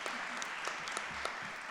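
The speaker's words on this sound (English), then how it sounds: "can we give another round of applause for Ms. Jones, please?" Steady applause from a crowd, heard at a moderate distance, a continuous patter of many hands clapping with no voices over it.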